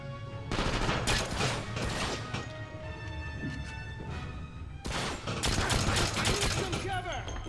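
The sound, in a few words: gun reloading in video game 007 Quantum of Solace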